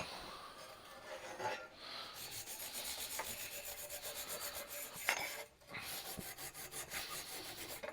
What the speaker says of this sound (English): I don't really think it has to be wire brush grinded, but just want to see if there's any more cracks and nicks and stuff